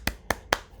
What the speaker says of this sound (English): here's me clapping